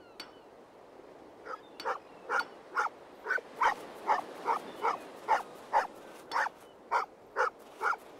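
A dog in the video game An English Haunting barks in a long run of sharp, evenly spaced yelps with whimpering tones, about fifteen calls in quick rhythm over a quiet background.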